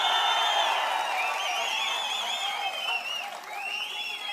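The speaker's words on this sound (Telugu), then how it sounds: "గట్టిగా చప్పట్లు కూడా చెప్పండి" Sustained crowd applause at a Prajagalam political rally in Vemuru, a dense wash of clapping that holds steady throughout and eases slightly near the end, with no speech over it.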